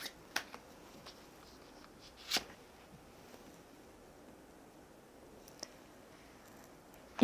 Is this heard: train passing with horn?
no